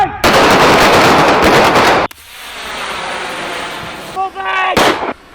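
Gunshots in a concealed carry training scenario: a loud, sustained burst of rapid close firing, a sudden cut to quieter rushing noise, then a shouted voice and a final sharp burst.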